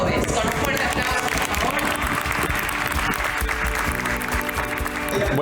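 An audience applauds an award recipient at a business event, with steady clapping over loud background music that plays throughout.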